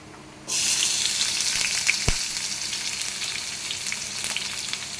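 Onions drop into hot oil, and a loud, close sizzle bursts in suddenly and then holds steady, with a brief knock of a utensil partway through.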